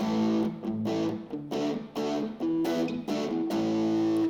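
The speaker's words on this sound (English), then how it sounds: "you can turn the level of the distortion down a little bit" Electric guitar played through a distortion pedal with three knobs, strummed chords ringing in a loud, dense, sustained tone with short gaps between phrases, close and alone.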